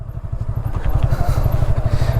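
A KTM Duke 200 motorcycle engine throbs steadily during a ride, with close, loud, rapid low pulses continuing throughout and no voices.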